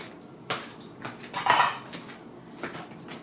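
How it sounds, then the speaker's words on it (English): Warm pasta salad with tomatoes and dressing tossed in a bowl, soft clinks and scrapes of utensils against the dish, a louder burst of clattering midway, close and otherwise quiet. "Toss it around in the dressing and the tomatoes."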